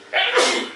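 A single sharp sneeze, close and loud, bursting out in under a second with no other sound around it.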